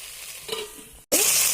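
Okra stew stirred with a ladle in a hot pot, a short soft sizzle with a scrape, a momentary gap, then a louder burst of frying.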